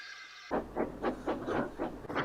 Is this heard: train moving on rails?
yes